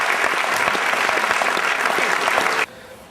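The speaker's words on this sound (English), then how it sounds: "huge round of applause for that huge casting crew" Loud, dense applause from a premiere audience at the GFT honoring a film's cast and crew, steady for over two seconds before cutting off abruptly into quiet.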